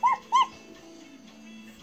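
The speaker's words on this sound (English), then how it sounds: "so that's my dog, Snowflake" A dog gives two short high yips or whimpers in quick succession, then quieter whining and rustling follow, close and fairly soft.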